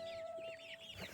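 Brahma chickens cluck softly as they are given water, a brief faint run of close, low clucks and chirpy calls over a quiet background with a steady electrical hum.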